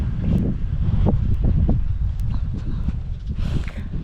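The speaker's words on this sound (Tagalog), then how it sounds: "ang ihip ng hangin ay sobrang lamig" Wind gusts and rumbles steadily against the microphone, with a few clopping, footstep-like knocks mixed in.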